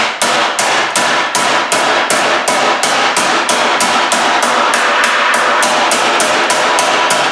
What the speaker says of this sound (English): I'm holding this hammer at an angle as I'm hitting, and I'm letting the corner of the table stop my blows